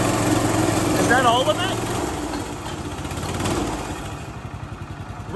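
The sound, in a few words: Honda GX390 engine revving on homemade go-kart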